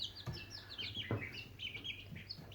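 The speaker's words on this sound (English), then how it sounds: "box of chicks" Small chicks in a box chirping, with continuous high peeping calls overlapping one another, close and steady with a few soft thumps.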